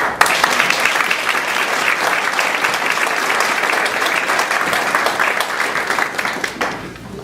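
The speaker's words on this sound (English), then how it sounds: "Let's hear it for David." Loud, sustained applause from an audience, dense clapping throughout that fades out near the end.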